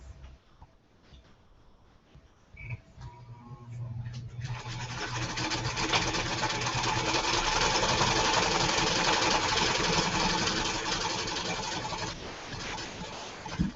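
A sewing machine runs steadily as quilt pieces are fed through and stitched, its motor whirring loud and close for several seconds after a quieter start, then slowing to a stop.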